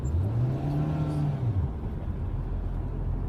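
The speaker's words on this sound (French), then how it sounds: "Lance ta voiture, allez, accélère, vas-y, accélère" Car accelerating on the road during a driving lesson, the engine note rising steadily then dropping away as a gear shift comes, with steady road and cabin noise continuing after.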